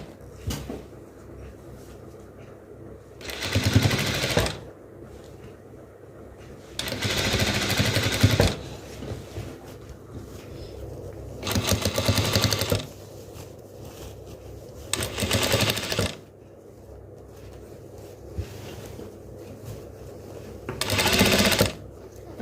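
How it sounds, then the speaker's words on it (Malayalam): A sewing machine stitches a sleeve onto a crop top, running in several loud bursts of a second or two each, separated by quiet pauses while the fabric is repositioned, close and alone. "നമുക്ക് ഈ സൈഡിലെ സ്ലീവ് കൂടെ വെച്ച് കൊടുക്കാം. ഇതിനെ സ്റ്റിച്ച് ചെയ്ത് കൊടുക്കാം."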